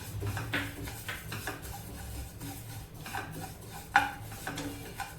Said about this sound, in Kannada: ಜೀರಿಗೆ ಹಾಕೊಳ್ತಾ ಇದ್ದೀನಿ. ಇದೆಲ್ಲ ಲೈಟಾಗಿ ಫ್ರೈ ಮಾಡ್ಕೊಬೇಕು ಫ್ರೆಂಡ್ಸ್